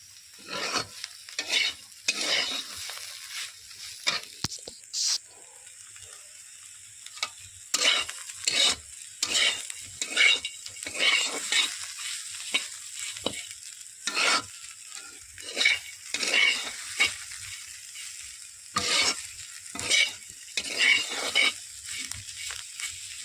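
Pointed gourd (potol) slices frying in a generous amount of oil with cumin, a steady close sizzle broken by repeated scraping stirs of a spatula against the pan.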